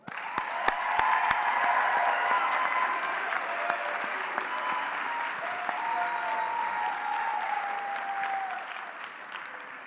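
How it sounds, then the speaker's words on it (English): An audience at a high school commencement ceremony applauds its graduates with sustained, dense clapping that starts at once and holds steady for about ten seconds, with a few sharper claps and faint cheers standing out near the start. "let's give one more applause for our graduates"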